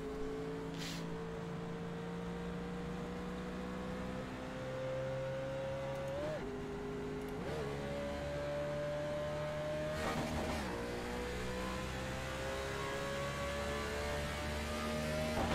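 A NASCAR race car in the iRacing sim at Chicagoland Speedway drones steadily near and loud, its engine pitch climbing slowly and dipping briefly at gear shifts, a continuous whine filling the lap.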